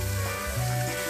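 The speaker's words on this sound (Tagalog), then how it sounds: "Pakagisa-gisa natin para maalis ang kanyang lansa, ang lansa ng karne." Beef for a Filipino-style spaghetti sauce sizzles briefly in a hot pan, a short, close, steady frying hiss with a faint stir.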